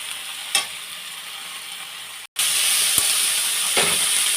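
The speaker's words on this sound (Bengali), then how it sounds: "এই যে থানকুনি পাতাটা দিয়ে নেড়ে নিচ্ছি" Thankuni leaves fry and hiss in a pan with salt while being stirred, a steady close sizzle that jumps louder midway, with a few sharp scraping knocks.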